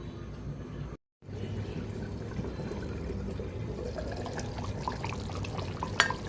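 Hot water is poured into a pot of beef curry in a steady, continuous stream that starts after a brief gap and runs on without a break, with no talking.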